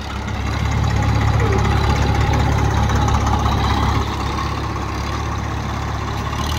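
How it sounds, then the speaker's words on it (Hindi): A Massey 241 tractor engine pulling hard at full throttle, giving a loud, steady, close diesel roar with a deep rumble throughout and no voice clearly heard. "ये देखो भाई मैसी भाई फुल दम लगा रहा है 241 ही तो है फुल रेस देकर खेची जाएगी एकदम"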